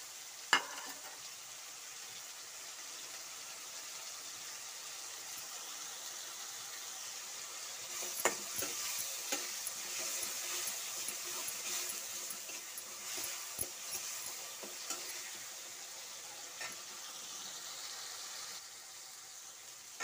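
Tomatoes with salt and turmeric fry in a kadai pan, giving a soft continuous sizzle, with scraping and clinking stirring strokes heard mostly in the middle stretch, quiet and close.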